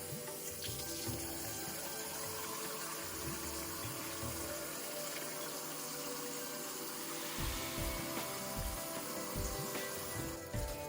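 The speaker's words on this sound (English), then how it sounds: "I always wanna rinse my rice a couple of times before I cook it. Rinse it until it's running clear." Basmati rice is rinsed under running tap water at a sink, a quiet steady flow with occasional splashes and sloshing.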